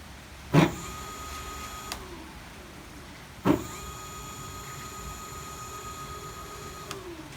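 A homemade electric pocket trike motor whirs at high speed, spinning up twice with a thump and settling into a steady, whining electric hum that holds between the starts.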